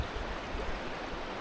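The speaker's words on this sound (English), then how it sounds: "we have to cross this water stream anyways" Mountain stream on a backpacking route toward glacier-fed lakes in Canada, a steady broadband rush of running water heard close and continuous without any voices.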